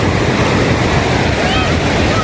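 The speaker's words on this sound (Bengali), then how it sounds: "এই যে ঢেউগুলো এইদিকে আসছে," Sea waves wash in along a long beach at Cox's Bazar in the evening, a loud continuous surf roar mixed with wind buffeting the microphone.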